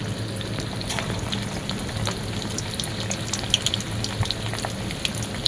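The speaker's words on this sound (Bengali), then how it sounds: "সব চিকেনটাকে ডিপ ফ্রাই করে নিতে হবে।" Small chicken balls deep-fry in hot oil, a steady crackling sizzle with scattered pops and bubbling throughout, close and continuous.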